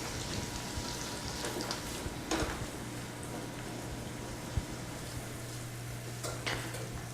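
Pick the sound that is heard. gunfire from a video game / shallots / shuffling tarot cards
shallots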